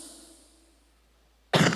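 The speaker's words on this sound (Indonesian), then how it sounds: "Batuk lagi." A single sudden cough bursts out near the end of a live sermon after a quiet stretch with faint background hum.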